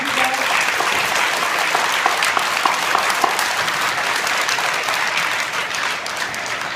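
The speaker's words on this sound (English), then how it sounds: "If I can we give a round of applause to each one of you guys?" An indoor audience at a school awards event gives sustained applause for young essay contest students, a dense, steady clapping that carries on throughout without a break.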